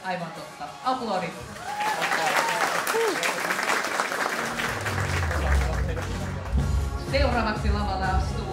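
Audience applause at a cosplay contest fills the hall, sustained steady clapping with crowd noise, while an announcer talks over it near the start and again toward the end.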